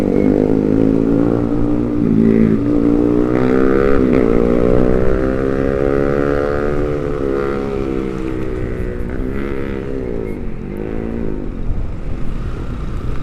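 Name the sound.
motorcycle passing with loud exhaust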